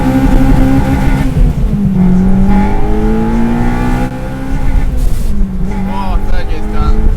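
Honda Civic Type R EP3 engine pulls loud and close through a 0-60 acceleration run, the revs climbing and dropping across gear changes, with voices briefly heard over the engine.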